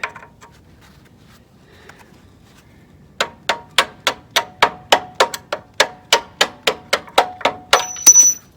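Light metallic tapping on a front suspension part of a Ford F350, about seventeen evenly spaced sharp taps close by, starting after a quiet stretch and quickening slightly toward the end.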